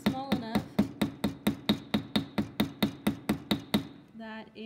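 A wire rivet joining two pieces being struck with a hammer, about fifteen sharp ringing metallic blows in a steady quick rhythm, loud and close, then a brief resonant ring as the hammering stops.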